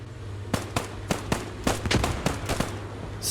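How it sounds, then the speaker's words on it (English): Machine-gun fire in the WWII shooter Post Scriptum, during a 1944 Sainte-Mère-Église assault on a church perimeter: a string of sharp, loud shots at uneven intervals, some closely clustered, over a low steady rumble. "they're just getting tagged down by machine guns"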